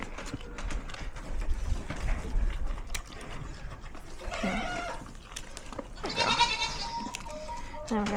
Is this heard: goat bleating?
yes